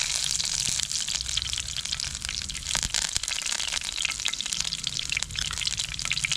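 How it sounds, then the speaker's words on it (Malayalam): Curry leaves dropped into hot oil crackle and spatter in a steady, dense sizzle that runs the whole time at moderate loudness, with no talking. "എണ്ണ നന്നായിട്ട് ചൂടായിട്ട് വരുമ്പോൾ നമുക്ക് കുറച്ച് കറിവേപ്പില ഇട്ട് കൊടുക്കാം."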